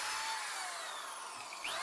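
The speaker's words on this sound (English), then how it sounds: "cut two pieces of 1x4 to length for the sides and drill two pocket holes on each end" A power drill bores pocket holes into a 1x4 wood board in a workshop, giving a steady, high, whining buzz that holds for under two seconds, close by and alone.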